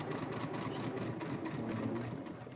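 A sewing machine runs a basting stitch in one continuous, even mechanical whir that stays loud and steady throughout.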